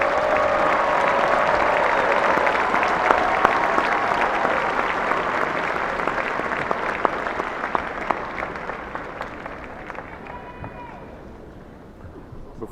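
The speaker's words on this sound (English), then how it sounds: "And now a final round of applause for our master's" A large commencement audience at a spring ceremony applauds master's degree candidates. Broad, roaring applause from many hands starts strong and gradually fades over about twelve seconds.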